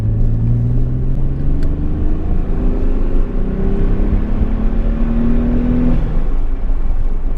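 A 1991 Nissan Fairlady Twin Turbo engine pulling up through the gears, a steady loud in-cabin drone with rising engine tones that step down at each shift, heard continuously without talking.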